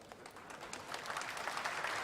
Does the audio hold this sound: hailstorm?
no